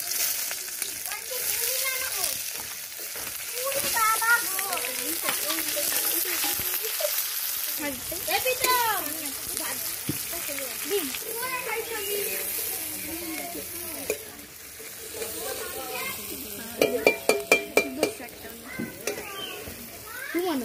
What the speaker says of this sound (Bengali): তেলের মধ্যে অল্পটা দিয়ে দেবো। পেঁয়াজটা দিয়ে দেবো।